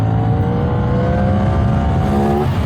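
A CFMOTO 450NK motorcycle accelerates up onto a toll highway, its engine pitch climbing in a smooth rising whine over loud, constant wind and road roar.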